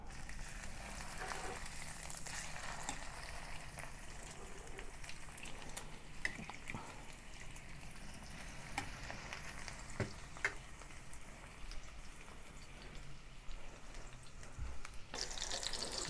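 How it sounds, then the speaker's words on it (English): A steady, quiet sizzle of chicken pan-frying in oil crackles continuously, with small pops and spatters throughout. "Heat some oil in the pan and then pan fry the chicken on both sides until golden brown."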